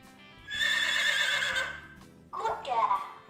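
A horse whinnies loudly and close up in a long, quavering call, then gives a shorter, rougher snort-like neigh after a brief pause, with no talking over it.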